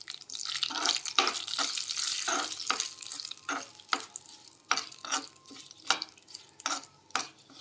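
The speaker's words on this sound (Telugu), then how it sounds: "ఇప్పుడు దీన్ని చట్నీలోకి మిక్స్ చేసుకుందాం" Peanut mint chutney being stirred and mixed in a kitchen, with repeated scraping and wet mixing strokes in a steady rhythm, close and moderately loud, with no talking.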